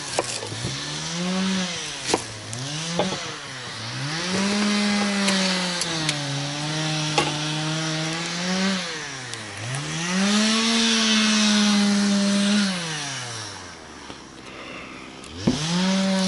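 A chainsaw cuts wood at a spring taiga camp, its engine snarling in long sustained bursts that rise and fall as it revs between cuts, loud and close throughout with no talking.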